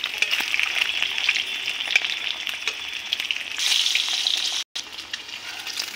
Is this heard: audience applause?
no